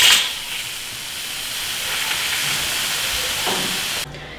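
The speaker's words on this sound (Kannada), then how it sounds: "ಸೊ ನಾನು ಒಂದು 3 ವಿಷಲ್ ಕೂಗಿಸ್ಕೊತೀನಿ." Pressure cooker cooking rice and lentils lets out a loud, steady hissing steam whistle that holds for about four seconds before cutting off sharply.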